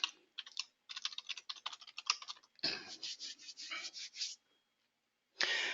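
Typing on a computer keyboard to enter an email and password: quick bursts of crisp, close key clicks with short pauses between runs, no talking.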